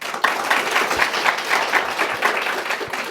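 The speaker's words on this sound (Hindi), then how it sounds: "आप सबकी भरपूर तालियों में जनाब डॉक्टर अब्बास अली साहब" Talk show audience clapping warmly for an arriving guest, a steady wash of many hands held at moderate level throughout, with no speech.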